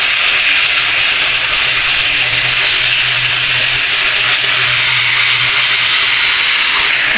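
Tilapia fried golden brown in hot oil gives a steady, dense sizzling hiss that carries on unbroken and fairly loud from close by, with no voices over it.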